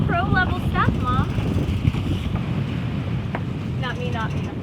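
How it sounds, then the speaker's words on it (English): Sailboat under way in steady wind, with broad wind and water noise filling the whole stretch while voices talk over it at intervals. "We're sailing."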